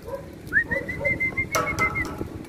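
A racing pigeon arriving at its loft after a training toss coos softly nearby with a few whistling calls, alongside light fluttering and faint background noise.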